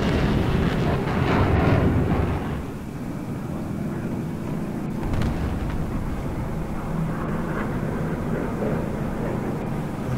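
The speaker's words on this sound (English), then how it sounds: "It's definitely a tank engine." A tank engine rumbles in a video game, a low, heavy drone that swells briefly early on and then settles into a steady, continuous growl with no talk over it.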